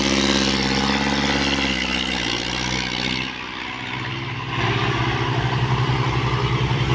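A heavy tractor engine chugs and rumbles continuously up close, dipping briefly before revving back up to a loud, throbbing idle.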